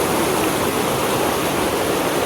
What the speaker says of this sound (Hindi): तो बड़े बड़े जो है ना ऊपर से तो पानी आ रहा है नदी का